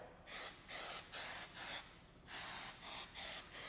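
Soft 99 Glaco W Jet Strong windshield coating sprays onto a car windshield in a series of short hissing bursts, roughly six, spaced evenly and heard up close.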